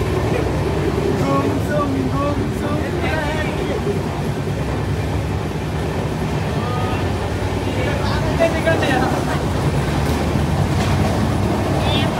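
Steady local commuter train rumble runs throughout, a continuous rattling roar from inside a moving general-compartment carriage, with people talking faintly now and then over it.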